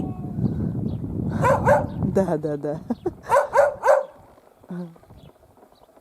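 A pet dog howls outdoors, giving several short, wavering, high-pitched cries and yips close by, while someone talks alongside.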